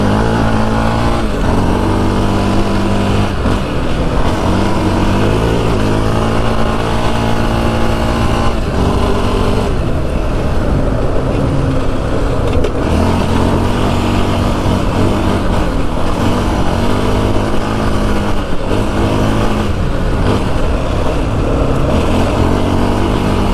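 A Yamaha Raptor 700 ATV engine roars steadily and loud through a summer sunset ride in the hot Arizona desert, revving continuously with no pauses and no voices over it.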